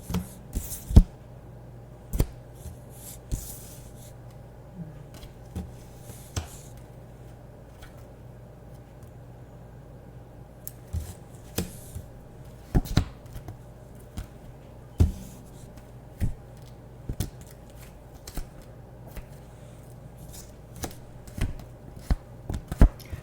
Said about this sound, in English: Just let me put some cards down